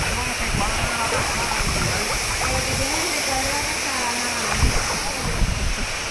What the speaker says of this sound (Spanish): Y llegamos a la parte de arriba de la cascada.